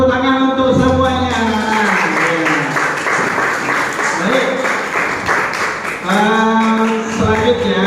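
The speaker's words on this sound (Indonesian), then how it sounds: "tepuk tangan untuk semuanya" Audience of students clapping in a classroom: a sustained burst of applause lasting several seconds, with a teacher's voice speaking just before and after it.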